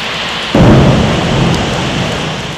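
A summer thunderstorm in the Świętokrzyskie region of Poland: steady, heavy rain hisses throughout. A deep rumble of thunder breaks in and rolls on beneath the downpour.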